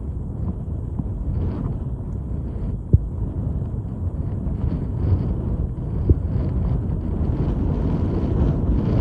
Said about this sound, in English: at this point, it's getting really windy, really cold